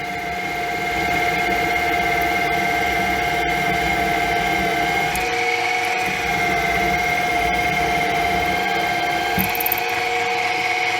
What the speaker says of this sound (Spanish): Hemos hecho un taladro en seco.